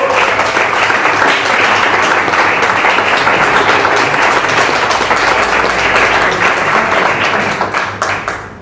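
Sustained, dense audience applause at a live Carnaval stage show, loud and continuous with many hands clapping, tapering off over the last second.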